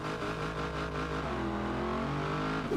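A Dodge Charger muscle car mod in the BeamNG Drive video game, its engine rumbling steadily at a low, throaty idle to cruise with layered harmonics, then a slight rise in pitch near the end.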